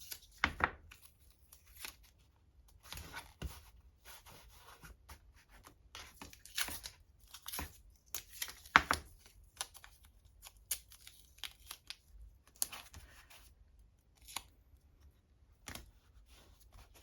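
Strips of tape being torn off a roll to form squares, a run of short, sharp rips and crackles scattered across a quiet room, close and fairly soft, with no talking.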